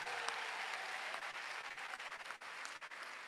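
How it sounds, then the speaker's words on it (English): Audience applause at an induction ceremony for newly qualified medical and dental practitioners, a faint, distant, sustained wash of clapping that thins out toward the end. "Can we give another applause?"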